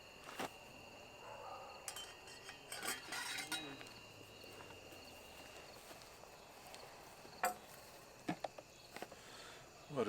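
A pot of jalapeño Guinness chicken mac and cheese is stirred outdoors at a van campsite on a cool fall night, with scattered metallic spoon clinks over a faint background of chirping insects.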